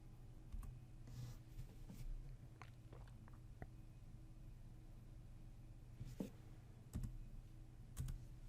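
Sparse keyboard key presses while answering a prompt in an Oracle Linux 8.4 guest running in VirtualBox: a few quiet, separated clicks over a steady low room hum.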